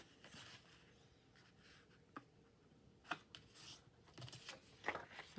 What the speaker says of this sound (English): Let's cut this and get a straight line first